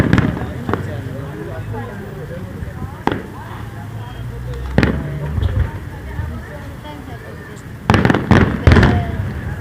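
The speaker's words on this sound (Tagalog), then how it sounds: "may mga fireworks" Fireworks bursting outdoors, with several sharp booms spread through the clip and a quick cluster of loud cracks near the end, set against steady crowd chatter and people talking nearby.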